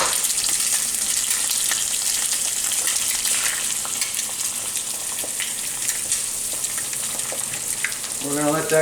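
Butter and eggs fry in a pan with a loud, steady close-up sizzle that holds evenly, then a brief warbling, bubbly burst breaks in near the end.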